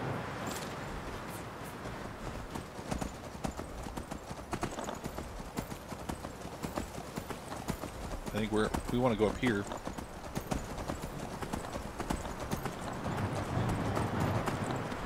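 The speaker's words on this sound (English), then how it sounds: "this horse thing makes traveling way more fun" Steady clip-clopping of horse hooves in the video game Skyrim, running under occasional speech, with a brief whinny in the middle.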